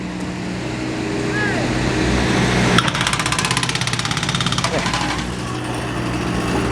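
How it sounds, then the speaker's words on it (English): A jackhammer breaking asphalt pounds rapidly and rhythmically for a few seconds over a steady engine drone, then stops while the motor keeps running. "So we got to cut the asphalt, jackhammer it"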